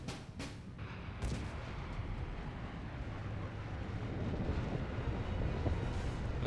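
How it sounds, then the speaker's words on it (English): An explosion in the video game Mass Effect 2 opens with sharp cracks, then becomes a dense, roaring rumble that holds steady and loud to the end. "it's probably a bigger explosion than I needed"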